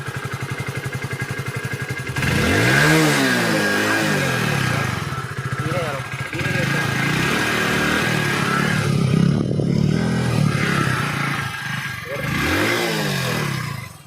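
A Hero Passion+ motorcycle engine idles with a fast putter, then is revved repeatedly in rising and falling bursts, loud and close, with some talking mixed in.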